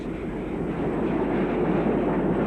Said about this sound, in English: This is Pioneer County Class locomotive number 1000,